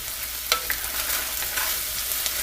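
Seasonings stirred into corn chowder in a pot, a steady sizzle-like hiss with a few sharp spoon scrapes and knocks against the pot, no one talking.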